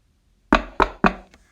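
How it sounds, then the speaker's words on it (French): Knocking on a door as a stock sound effect: three sharp, evenly spaced knocks, close and crisp, followed by a faint fourth tap, with silence before. "moi, je veux quelqu'un qui cogne à la porte."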